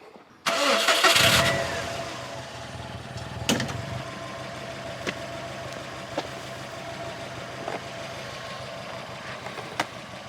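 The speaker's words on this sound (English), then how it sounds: "So I'll start the car." Subaru WRX engine cranks briefly and catches with a loud burst, then settles into a steady idle with a few small revs, close by and alone.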